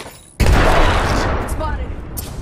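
A frag grenade blast in Apex Legends erupts suddenly after a brief quiet moment, a loud, close boom with a long rumbling tail as game voices and effects carry on around it.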